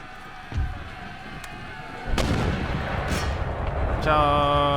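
Mortar and artillery fire booms through a Napoleonic-era battle in the video game Empire: Total War, with several distinct blasts and thuds over a rumbling background of distant battle noise.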